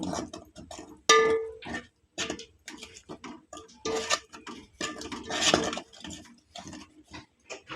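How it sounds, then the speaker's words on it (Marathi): Spice masala stirred in a pan for clam curry, a close run of clinking spoon-on-metal scrapes and taps in an uneven rhythm, with rustling frying noise between strokes and no talk. "मसाला घालायचो असं परतायचं"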